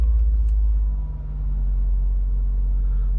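A 2006 Toyota RAV4 XT4 with a 2.0 petrol engine and automatic gearbox settles into a deep, steady idle after a brief dip in its rumble, close and loud with no talk.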